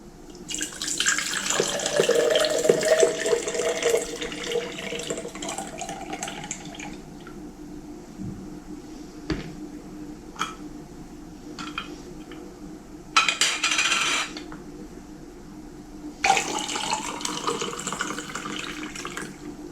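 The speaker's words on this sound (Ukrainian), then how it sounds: "водичку зливаємо з помідор та переміряємо її кількість" Hot water is poured off a jar of tomatoes being steamed for pickling, a rushing splash that runs for several seconds and then returns in short bursts with faint glass clinks between.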